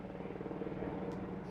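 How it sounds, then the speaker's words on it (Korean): Helicopters fly over a mountain wildfire in Gangwon to drop water, heard as a continuous low rotor drone throughout. "헬기들이 산 위를 오가며 물을 뿌립니다."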